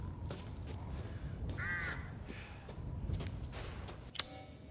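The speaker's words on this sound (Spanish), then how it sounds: "Aparte de cuervos y cosas." Crows caw several times in Resident Evil Village, the calls fairly faint and spaced out over a quiet ambient game backdrop with occasional soft thumps.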